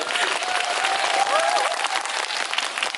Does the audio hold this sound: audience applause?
yes